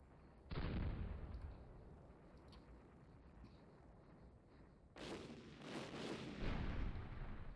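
Artillery fire strikes a tank company in the Panzer Campaigns: Stalingrad '42 wargame: two heavy booming barrages, one early and one late, each rolling into a loud rumbling roar, with no talk.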